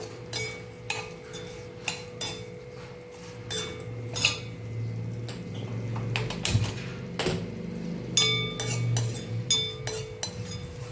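A spoon clinks and scrapes against a pan while chili chutney is stirred, a steady run of metallic taps and scrapes over a low sizzling background.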